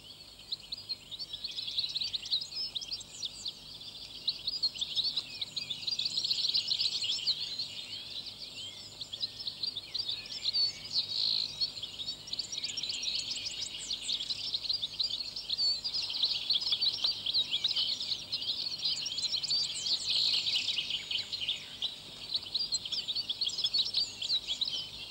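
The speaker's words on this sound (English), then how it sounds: "the tranquil woodland scene is the background for a frenzy of activity among the birds and insects as spring turns to summer" Woodland birds chirp and trill in a dense, continuous spring chorus at moderate distance, with a faint insect hum beneath and no voices.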